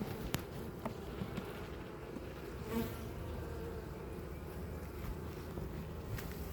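Many honey bees buzz in a dense, continuous drone up close inside an open hive during inspection, a steady hum with a few faint clicks and bumps.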